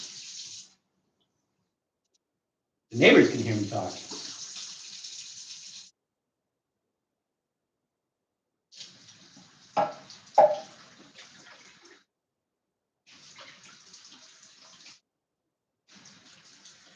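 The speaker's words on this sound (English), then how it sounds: "I'm going to rinse this off over here. The sink is right over here." A kitchen sink tap runs in intermittent bursts as canned food is rinsed under cold water. A strong gush comes first, then several weaker spurts with splashes and drips, separated by silence, and a voice speaks briefly.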